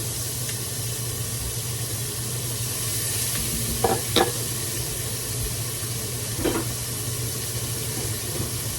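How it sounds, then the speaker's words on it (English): Pre-prepped onions sauté in hot bacon grease, giving a constant dense hiss and sizzle with a couple of short scraping stirs partway through, close and steady, no voices. "I already have some pre-prepped onions. We're just gonna toss them in there. Saute them."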